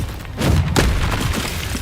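A Bombarda explosion spell detonates in the video game Hogwarts Legacy, a loud booming blast with a heavy low rumble that swells and lingers, set against a dense wash of game effects and no speech.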